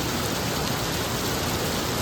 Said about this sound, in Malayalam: തകൃതിയായിട്ട് മഴ പെയ്തുകൊണ്ടിരിക്കുകയാണ്